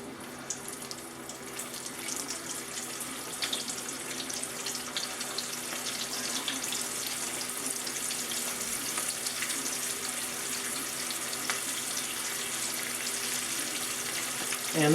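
Chicken wings with Cajun seasoning frying in hot oil, a dense, even hiss of sizzling bubbles that holds steady throughout at close range, with no voices.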